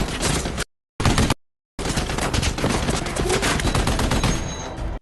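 Gunfire in a war film scene, a rapid burst of shots broken by brief silences, then a long continuous volley of automatic fire.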